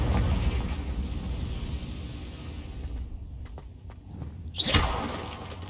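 A Confringo blasting spell goes off in Hogwarts Legacy as a sudden bright burst with a whooshing crack near the end, rising over a steady rumbling game backdrop with softer thuds before it.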